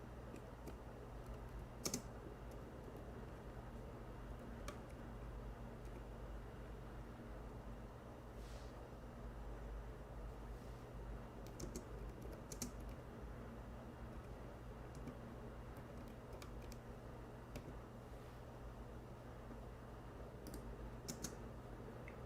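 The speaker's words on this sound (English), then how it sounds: "Oh, I'm typing in English." Keys clatter on a computer keyboard in short irregular bursts of quiet taps, faint and close against a low steady hum, with no talking.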